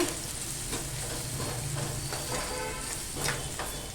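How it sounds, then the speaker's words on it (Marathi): Malvani masala and turmeric sizzle in hot oil alongside softened tomato, a steady close frying hiss broken by the scrape and clatter of stirring. "दोन चमचे मालवणी मसाला तो पण ना तेलावर छान असा परतून घेऊया"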